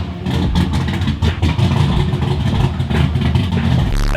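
A rebuilt turbocharged Ecotec race car engine roars close by at startup, revving hard with a rough, throaty tone and steady, loud intensity.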